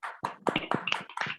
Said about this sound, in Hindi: एक बार जबरदस्त तालियां होनी चाहिए पंकज जी के लिए